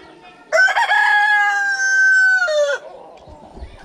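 A rooster at a village chicken coop gives one loud, close crow lasting about two seconds, rising and holding before dropping off, with quiet farmyard background before and after.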